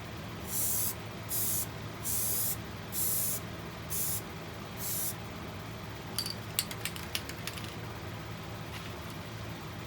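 Aerosol paint sprayed onto a bowl in white and blue, six hissing bursts of about half a second each in a steady rhythm, close and loud, followed by a few light clicks and taps.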